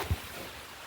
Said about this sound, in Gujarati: જોઈ શકો છો એકદમ વરસાદ આવી ગયો છે.